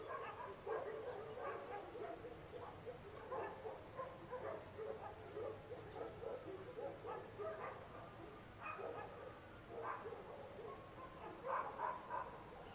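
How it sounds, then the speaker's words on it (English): A large pack of about twenty dogs barks and yips continuously at night, some near and some farther off, in overlapping irregular bursts. "There's 20 dogs barking."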